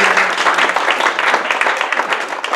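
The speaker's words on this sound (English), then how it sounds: "Let's give them a big round of applause." Audience applause after a talk on the early Toronto waterfront, a dense, steady patter of many hands clapping close by and evenly for the whole stretch, with no voices over it.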